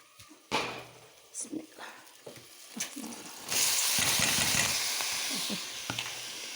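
Chopped eggplant tipped into a hot pan over peppers sets off a sudden loud, steady sizzling hiss that slowly eases, after a stretch of clattering kitchen sounds with a person talking.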